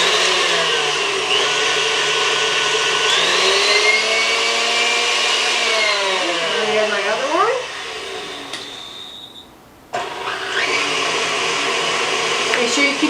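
An electric mixer beats apple fritter bread batter in a bowl with a steady, loud whining hum whose pitch shifts as it works. It briefly drops away near the end before starting up again, with a voice talking over it.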